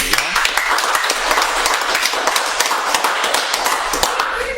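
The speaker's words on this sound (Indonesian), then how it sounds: "Tepuk tangan untuk kita." A crowd applauds steadily, dense clapping from many hands sustained evenly throughout, fairly loud and close.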